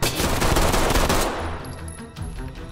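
Sustained burst of automatic gunfire as a full magazine is emptied in the tactical shooter Ready or Not, loud and dense for over a second, then tapering into quieter echoing shots and ambient noise.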